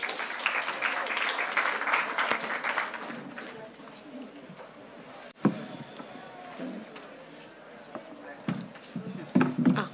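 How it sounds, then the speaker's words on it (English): An audience at a startup pitch event applauds a presenter, with fairly loud clapping for the first few seconds. The clapping then thins into scattered claps, thumps and footsteps as she comes up, with some voices in the room. "can I get a very big applause for Paula"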